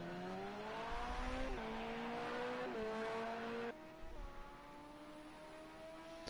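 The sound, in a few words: Porsche race car driving into a corner, from the video game Project CARS 2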